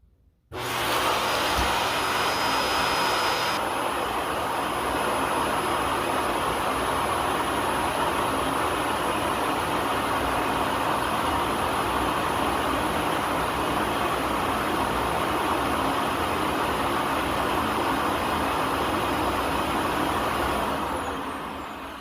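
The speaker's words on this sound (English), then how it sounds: "let's go ahead and have a look at the self-emptying bin here and see how well it does" A Yeedi Vac Station robot vacuum dock empties its dustbin with a loud, constant suction roar that starts abruptly and holds unchanged for about twenty seconds before tapering slightly.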